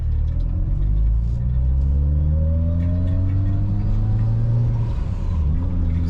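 Mitsubishi Lancer Evo 9 with a freshly completed drivetrain and new wheels, heard from inside while driving: a loud, steady engine rumble with rising and falling revs and a smooth drivetrain whir throughout, with no talking.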